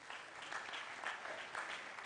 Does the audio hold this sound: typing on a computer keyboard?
no